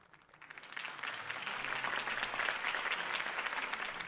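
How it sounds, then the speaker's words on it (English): Crowd applause in a Batman video game swells from quiet to a steady, dense roar of clapping that holds for several seconds, loud and continuous. "could have heard that applause"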